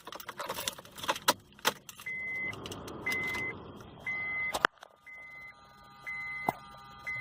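Car keys jangle and clink as a key goes into the ignition. Sharp metallic rattles come close up, followed by a series of repeated electronic chime tones from the car and a faint mechanical click.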